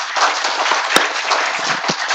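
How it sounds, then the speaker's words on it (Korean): An audience at a hospital stroke-centre health lecture claps in a steady, dense patter, fairly loud and close, with one sharper hit partway through. "박수 한번 부탁드립니다."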